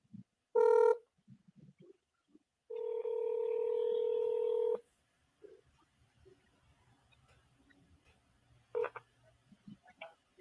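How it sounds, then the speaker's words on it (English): Phone app dialing a number for a callback: a long ringing telephone tone, then a second sustained tone a few seconds later and a brief final beep, with faint voices murmuring between them. "I'm trying to call that 901 number back"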